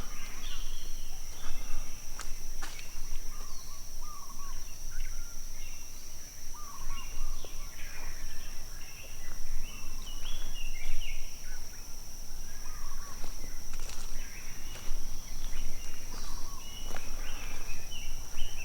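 Tropical birds call and chirp steadily with a constant high insect drone in a calm, windless rainforest valley on Oahu's east side, a dense layered chorus with no talking.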